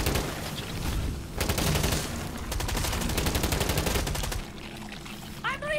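Automatic weapon fire in the co-op shooter Rainbow Six Extraction, with sustained rapid bursts of loud, close shots and a brief pause between volleys, over a constant rumble of game ambience.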